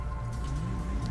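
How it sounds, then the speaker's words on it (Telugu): Steady rain pours down in a GTA mod game, a dense hiss of drops on surfaces that carries on without a break through a short moment. "ఇంకా రెయిన్ అయితే తగ్గలేదు"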